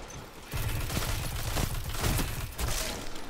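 Gunfire in an Iron Banner match of the game Destiny: a rapid, dense crackle of overlapping shots goes on at moderate loudness with no talk.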